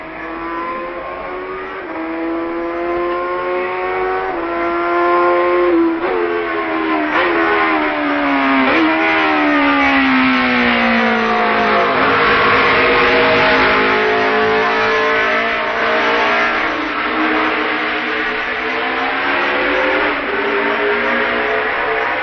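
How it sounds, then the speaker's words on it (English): Racing motorcycles at the 1965 Isle of Man TT, engines droning continuously at high revs with rising and falling pitch as they pass, loud and steady without a break. "Halewood leads Woodman by over 2 minutes as he approaches Braddon Bridge"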